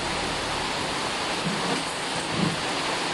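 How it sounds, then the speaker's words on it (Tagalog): Heavy typhoon rain pours down as a loud, unbroken hiss that fills the air, with faint low thumps beneath the steady roar. "So, ngayon lang na medyo nagtira talaga yung ulan."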